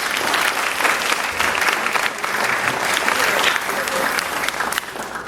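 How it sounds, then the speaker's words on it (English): Another round of applause for George at a chamber of commerce brunch honouring VIPs, a full hall of people clapping steadily for several seconds before the sound thins slightly near the end. "Let me ask you to please give George another round of applause."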